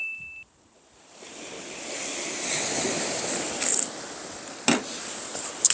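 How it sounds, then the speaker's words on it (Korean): Steady broadband wash of surf rolling onto shore at a seaside campsite in Gangwon-do, Korea, with gusts of wind and a few faint high beeps over it. "파도 소리가 사실은 너무 좋아요"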